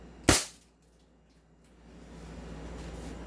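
Single sharp crack from an airsoft Beretta M92 pistol during a chronograph test, a close, brief shot that fades into quiet room hiss.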